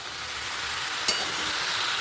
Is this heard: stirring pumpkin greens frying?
yes